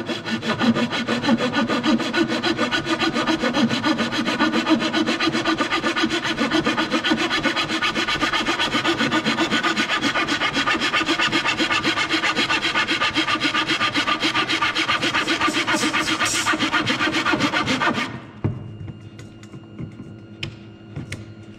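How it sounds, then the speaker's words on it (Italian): Steady back-and-forth hand sawing through a bamboo rod blank wrapped in tape, loud and continuous with a close rasping rhythm for about eighteen seconds before stopping abruptly, leaving faint handling noise. "sega."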